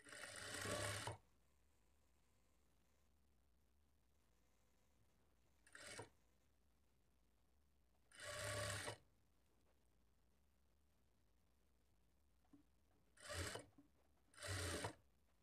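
A sewing machine stitches a blouse neck patti in short separate bursts, each about a second long, with quiet pauses between them.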